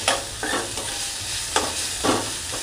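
Onion and chopped capsicum sautéing in a pan, with steady broadband sizzle and several distinct scraping stirs of a spatula against the pan, close and fairly loud, no talking.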